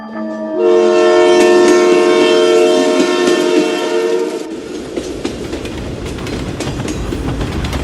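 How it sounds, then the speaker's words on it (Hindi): A train sound effect in a Hindi radio drama: a loud, sustained train horn sounds for several seconds, then gives way to a steady rumble and clatter of a moving train, with no talk. "बड़ी मुश्किल से आरव ने आज आखिरी वक्त पर ट्रेन पकड़ी थी।"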